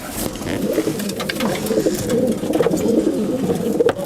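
Racing pigeons in a loft coo steadily in a dense overlapping chorus, with soft wing shuffles and scratching, close and moderately loud throughout.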